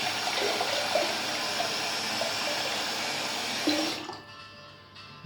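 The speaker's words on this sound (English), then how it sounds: "Just put my brush on there. I'm just going to clean the tub out." Running water rinses a shaving brush and washes out a shaving soap tub, a steady close splashing flow that cuts off near the end, leaving quiet drips.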